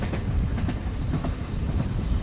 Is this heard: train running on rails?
yes